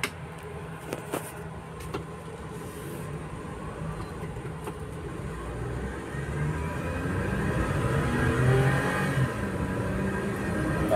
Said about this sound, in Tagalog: Lakas din pala itong tumakbo yung mga Suzuki Wigon mga master oh. Bilis sumakyat oh.